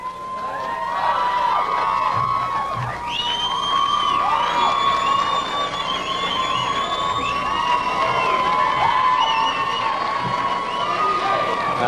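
A large church congregation at a pastors' conference cheers and shouts for their preacher, a sustained loud roar of many voices with whoops and high calls throughout.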